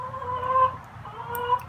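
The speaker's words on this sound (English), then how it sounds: "Sweet little chicken" Chickens cluck softly nearby, a steady run of low, throaty murmuring calls rising and falling with no talking.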